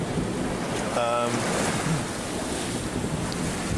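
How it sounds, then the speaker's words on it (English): Wind and a steady two-metre ocean swell on a small sailboat crossing the Bay of Biscay roar loud and close, with constant rushing noise and wind buffeting the microphone. "This is a good 2 metre steady swell."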